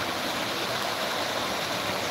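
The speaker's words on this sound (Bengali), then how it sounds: "আমি বসে বসে বৃষ্টি দেখছি জানলার কাছে।" Rain falling outside a window in Garia, Kolkata, a dense, steady hiss of water with no breaks, loud and close, no voices heard.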